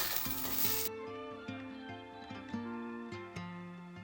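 Egg and chicken masala stir-frying in a pan, a close, steady sizzle with repeated scraping strokes of a spatula against the pan at an even rhythm, and a loud hiss in the opening second.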